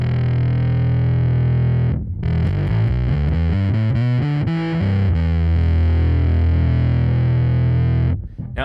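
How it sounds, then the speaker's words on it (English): Darker, muffled bass guitar through a fuzz pedal with its tone control turned down: a pause, then a run of gritty distorted notes ending on a long, heavy sustained tone before stopping. "so let's try pulling down the tone."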